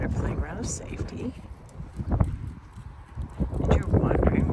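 A horse walks round and round in circles during a training session, its hooves making soft, irregular clip-clop thuds close by with wind noise on the microphone.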